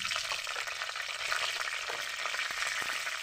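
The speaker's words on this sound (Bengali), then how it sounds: "তেজপাতাটা একটু ভাজা হোক।" Two or three bay leaves fry in hot oil in a kadai while a prawn curry with potato and ridge gourd is being made. A constant bright sizzle fills the clip, with a few soft stirring clicks and no talking.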